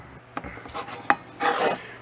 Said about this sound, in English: Sometimes I've been scraping with one of my little scraper tools